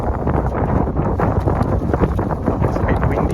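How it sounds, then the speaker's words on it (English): Gusty wind buffets the microphone on a fishing jetty, a steady, rough rushing roar filling the short stretch with no voices. "It's a bit windy."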